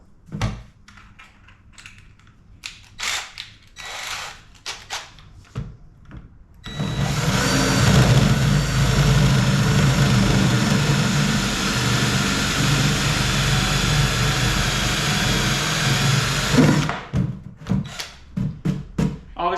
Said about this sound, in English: I'm going to hole saw it real quick